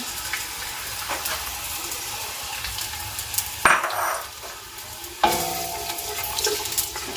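Onions fry in a cup of hot cooking oil, a dense, close sizzle that surges sharply twice as more onion hits the pan, with stirring throughout.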